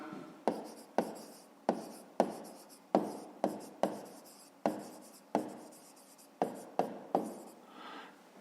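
Pen strokes scratch across notebook paper while the rectangle's width is written down, a rapid series of about fifteen sharp, close scrapes in an uneven rhythm, each stroke fading quickly before the next.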